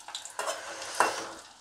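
Koftas fry to golden brown in oil, with a brief quiet sizzle and a couple of scraping stirs of a spoon in the pan.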